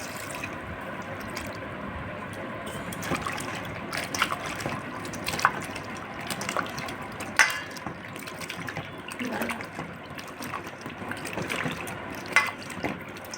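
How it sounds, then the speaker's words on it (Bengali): Thinly sliced bitter gourd is rubbed and washed in water, with continuous splashing, sloshing and dripping from a running tap, close and fairly loud. "এখন আমি জল দিয়ে ভালো করে কষলে কষলে ধুয়ে নেবো"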